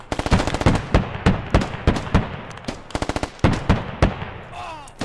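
Gunfire in the military shooter Squad, loud single shots and short bursts in irregular clusters, each with a sharp crack and a reverberant tail, close to the listener.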